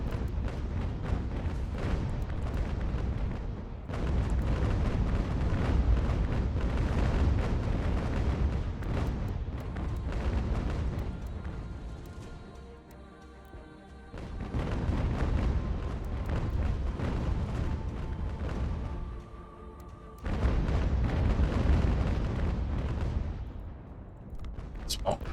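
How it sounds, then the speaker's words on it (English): Artillery bombarding a ship in the Ultimate General: American Revolution video game, with continuous loud rumbling cannon fire and explosions broken by a few brief lulls. "We're going to switch and just bomb the living shit out of that ship."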